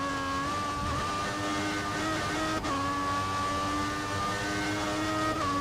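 Peugeot-engined Formula 1 car from the F1 2014 racing video game, a high-pitched engine whine held steady with a brief gear change midway, loud and alone without any talk.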